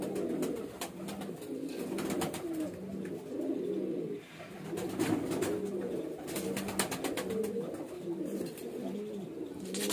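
A highflyer breeder pigeon coos in a steady, repeating rolling pattern that runs throughout, close and fairly clear, over faint background noise and brief crackles, with no one speaking.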